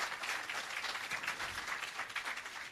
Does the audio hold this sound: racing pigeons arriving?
no